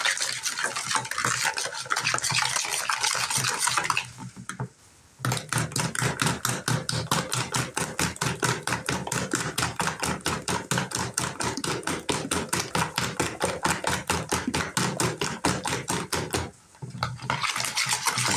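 A spoon stirs soda cake batter in a bowl, making rapid, even scraping strokes that run steadily and nearby with two brief pauses and no talking.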